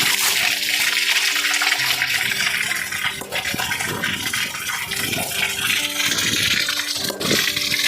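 Dirty, dusty water gushes out of a jumbo back filter on a water softener under service, a steady loud rushing flow with gurgling surges throughout.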